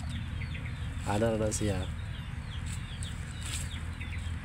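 Gamecock rooster clucking a few times in a farmyard, moderately close, with someone talking over and around it.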